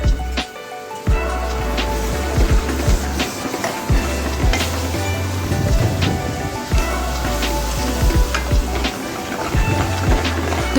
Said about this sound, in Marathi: जो मिक्सरमधून आपण मसाला बारीक केलेला तो आपण त्याच्यामध्ये टाकूया आणि त्या मिश्रणाला पण आपण छान मिक्स करून घेऊया